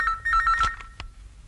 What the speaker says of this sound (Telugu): ఫోన్ సార్ మీకు.